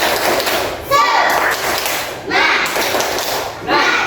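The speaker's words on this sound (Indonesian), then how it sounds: "Tepuk semangat dulu yuk." A group does a rhythmic tepuk semangat spirit clap in a classroom, bursts of claps and thumps repeating in a steady pattern under loud, lively chanting voices.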